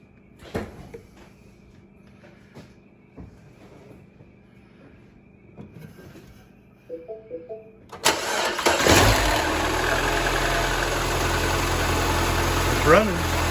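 A Mini Cooper, fresh from a coil replacement, cranks and fires at about eight seconds, then settles into a steady, loud idle close by; the first part holds only quiet clatter and handling noises.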